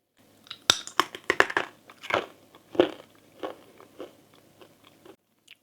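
A crispy nut-free keto cracker bitten and chewed up close, a series of sharp crunches and crackles in quick bursts that gradually soften into quieter chewing.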